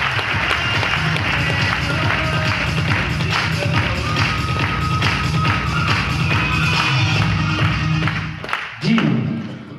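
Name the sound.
applause for the gurus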